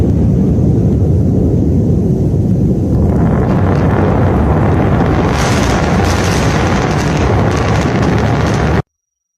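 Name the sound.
double sonic booms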